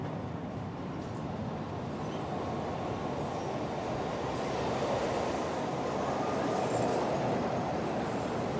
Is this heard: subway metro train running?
yes